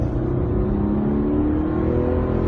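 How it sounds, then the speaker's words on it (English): The 3.5-liter six-cylinder engine of a 2017 Nissan Pathfinder drones steadily while accelerating on twisty roads, heard from inside the cabin. The engine tone rises slightly under a constant road rumble, with no talking. "we're driving the new Pathfinder"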